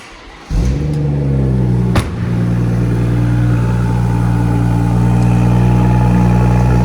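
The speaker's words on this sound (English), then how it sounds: "just going to start the car for me" A BMW M240i engine cranks and catches about half a second in, settling into a steady, loud idle with a brief blip near two seconds; no talking.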